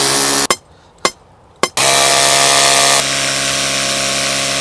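A rotary hammer pounds a copper ground rod into the ground, loud continuous hammering broken by three brief pauses with sharp restarts, then running steadily to the end.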